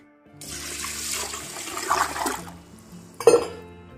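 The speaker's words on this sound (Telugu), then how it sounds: "ఈ బాస్మతి బియ్యంని బాగా ఇలా వాష్ చేసుకొని నానబెట్టుకోవాలన్నమాట." Basmati rice being washed in water in a home kitchen while preparing mutton dum biryani, with splashing and pouring water that builds steadily, then a sharp slosh near the end, close and loud with no talking.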